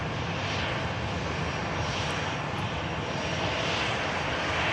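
An EasyJet airliner arriving from Geneva at Manchester Airport, its steady engine roar broad and continuous, fairly distant and even in level throughout with no talk.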